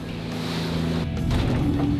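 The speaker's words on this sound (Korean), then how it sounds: "항구를 벗어나자마자 맞닥뜨린 4m 높이의 너울성 파도" Heavy 4-metre swell rocks a fishing boat at sea, a steady broadband wash of water and wind over a low droning engine hum, continuous and fairly loud throughout.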